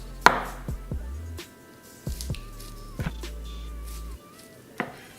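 A knife slices a tuna California roll with wasabi mayonnaise into three pieces on a board. Several short, close chopping thuds land in an uneven rhythm, each with a soft squish, and a brief sharp knock opens the sequence.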